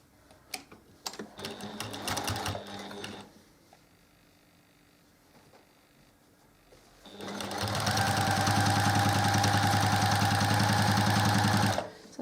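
A sewing machine stitches binding onto a quilt in two runs: a short stop-start burst early on, then after a lull a long, loud, steady whir of rapid stitching that cuts off abruptly near the end.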